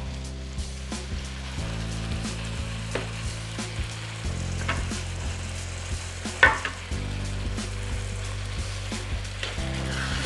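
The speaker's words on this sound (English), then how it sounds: "So then you stir. Make sure you stir it nicely." Curry chicken sauce with thyme being stirred in a pan, a steady close sizzle with repeated scraping stirs of a utensil against the pan and a humming tone underneath.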